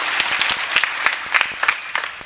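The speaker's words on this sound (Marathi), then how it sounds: "आपण टाळी वाजवून स्वागत करू एकदा बाबांचं" Applause from a kirtan audience welcoming Babaji, a dense patter of many hands with irregular louder bursts, steady and close throughout.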